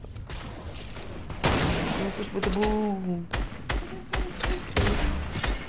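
Bursts of rapid gunfire crackle in Fortnite, broken by a rising tone, while someone talks over the shooting.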